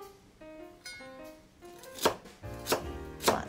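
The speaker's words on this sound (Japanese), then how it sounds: "セロリ、 粗みじん切りにしていきます。" Knife chopping celery on a cutting board, coarsely dicing it for an avocado, walnut and raisin salad; a few scattered light taps give way to three sharp, loud chops spaced about half a second to a second apart, close up.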